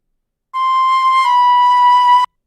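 A single synthesized flute-like tone holds one steady pitch for under two seconds, loud and clean, starting and stopping abruptly in silence.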